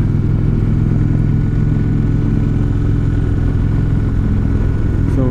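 An Indian Roadmaster motorcycle is ridden at the Americade rally, its engine producing a steady, loud, close rumble throughout, with a brief rising whine near the end.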